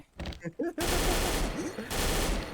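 Silver ARX16 rifle in the XSHOT shooting game fires loud sustained bursts of rapid automatic shots, with a brief pause near the start and another around the middle, while a voice speaks briefly early on.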